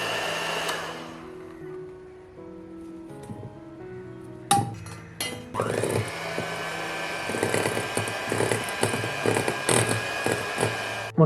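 An electric beater whisks eggs with powdered sugar for a no-oven carrot cake. A steady mechanical whir starts after a few clinks and a brief rattle, continuous and close, with the beaters clattering against the bowl and no talking.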